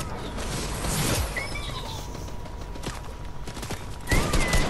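Rapid bursts of automatic gunfire in a shooter video game, several sharp volleys with a louder burst at the end, no talking over them.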